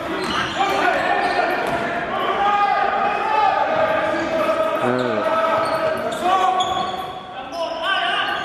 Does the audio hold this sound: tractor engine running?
no